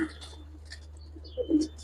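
Afshan pigeons coo softly in a loft, with a low, muffled burst of cooing near the end over a steady background hum; a voice speaks faintly at times.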